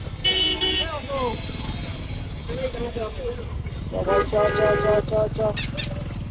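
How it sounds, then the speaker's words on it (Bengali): Traffic is jammed on a busy city road, with car and motorcycle engines rumbling nearby and several short horn toots at the start and near the end, under a person talking. "রাস্তায় প্রচণ্ড জ্যাম।"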